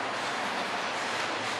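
A BNSF or Union Pacific train rolls past along the Puget Sound shoreline, giving a steady, even rumble and rush that holds at constant loudness throughout, with no voices.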